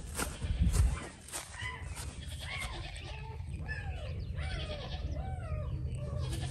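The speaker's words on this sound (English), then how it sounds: "I do hear puppies. I hear little puppies." High, thin whimpers and squeals of newborn livestock guardian dog puppies, repeated in wavering little cries over a low background hum, with a louder thump early on.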